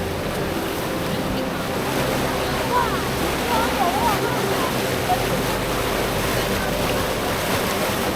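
A wave maker churns water at Mingshui Ancient Town in Shandong, a constant rushing, sloshing roar that stays close and loud throughout, with a voice faintly audible underneath.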